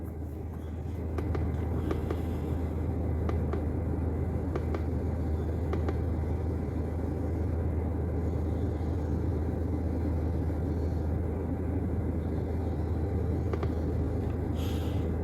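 Idling engine of a flex-fuel car with a P0300 random misfire fault, a steady low rumble with faint uneven pulsing, close and continuous with no talk.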